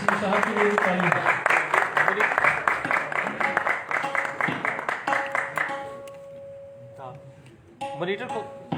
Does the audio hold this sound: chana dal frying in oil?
no